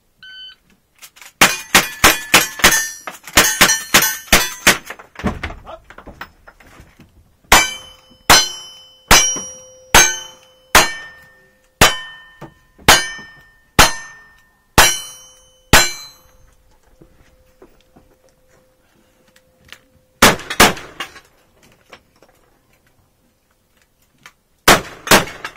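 A pistol fires rapid strings of shots at steel targets, and each shot rings out with a sharp metallic clang. Quick bursts alternate with evenly spaced single hits, followed by a few final shots after a short pause.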